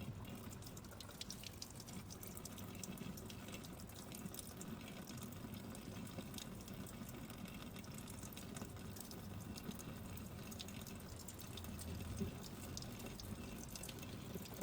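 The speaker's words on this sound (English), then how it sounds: "Carefully lathered her tiny hands with fragrant soap and rinsed them with clean water." Tap water runs steadily into a sink as a small child's soapy hands are rinsed, a faint, even trickle with light splashing that carries on unbroken, no talk over it.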